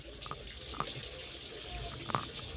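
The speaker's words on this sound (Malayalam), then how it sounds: "നമ്മുടെ ഡാനിക്ക് വെള്ളം ഒഴിച്ചു തുടങ്ങുകയാണ്." Water poured over a beagle puppy during a tick and flea bath: a soft, steady splashing wash with a couple of brief sharper splashes, moderately quiet and close, with no talking.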